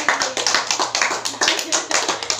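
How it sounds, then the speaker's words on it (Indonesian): Children clapping their hands in rhythmic bursts during a playful group discussion activity, close and fairly loud, in a repeated patterned clap with some voices mixed in. "Tepuk tangan lagi, tepuk tangan lagi."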